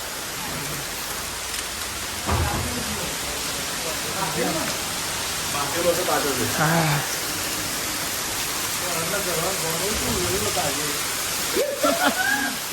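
Heavy rain pours down steadily with rushing, flowing water, a dense continuous wash throughout while people talk over it.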